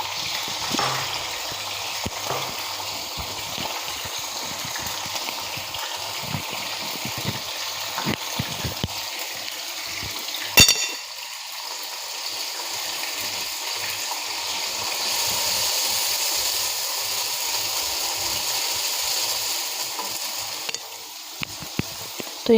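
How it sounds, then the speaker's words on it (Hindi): Onions frying in oil in a pan, a steady broadband sizzle with gurgling bubbling and occasional stirring clatter, one sharp knock midway, loud and close, no one talking. "इसके अंदर मैं ऐड कर लूँगी प्याज और प्याज को भी मैं फ्राई कर लूँगी"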